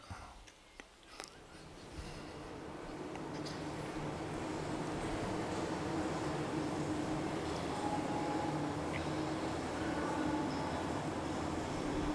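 A Melbourne train rumbles in the distance and grows gradually louder into a steady rolling roar, preceded by a few faint clicks and knocks.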